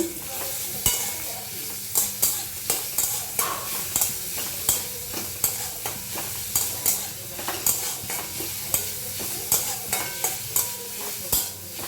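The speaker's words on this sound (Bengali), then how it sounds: "গ্রেট করে রাখা রসুনটাকে আমি দিয়ে দেব। দিয়ে একটুখানি ভালো করে ভেজে নেব।" Grated garlic frying and sizzling in a pan while being stirred for homemade chicken patties, a steady close sizzle broken by frequent sharp scrapes and clicks of the spoon against the pan, with no talking.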